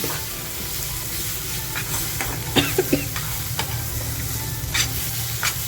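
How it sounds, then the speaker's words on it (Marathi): Masala for mutton vajdi fries in a pan with a constant close sizzle, punctuated by scattered spatula scrapes and stirring clicks, no talking. "आपला मसाला बघा किती छान फ्राय झाला आहे"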